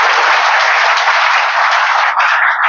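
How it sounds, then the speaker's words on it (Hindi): Audience applause welcoming a speaker to a stress-management talk: dense, loud, continuous clapping from a crowd that holds steady, then thins slightly near the end. "हम भरपूर तालियों से भाई साहब का स्वागत करते हैं।"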